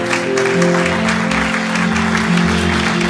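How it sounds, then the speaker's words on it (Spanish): Church congregation applauding Jesus after three souls are saved, steady clapping layered over sustained organ-like musical tones, lively and full throughout. "Denle un aplauso al Señor Jesús"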